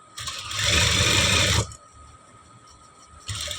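A sewing machine stitches a blouse neck lining in a fast, close, whirring run of about a second and a half, then falls quiet before starting another short burst.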